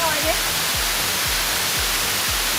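A waterfall at Wat Tako temple in Ayutthaya, Thailand, rushes as a loud, steady broadband hiss, with a repeating low rhythmic thump underneath throughout.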